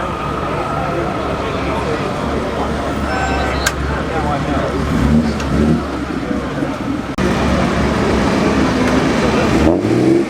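A vintage Alfa Romeo drives past at the Prescott hillclimb, its engine a loud, sustained drone that rises and swells as it nears, with crowd chatter and other traffic blending underneath.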